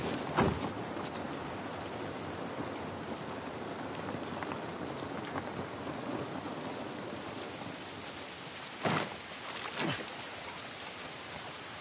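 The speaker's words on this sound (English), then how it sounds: "This rain ain't gonna do us any good." Steady rain in The Last of Us falls in a continuous hiss on surfaces, with a few louder drip splashes near the start and end, no voices over it.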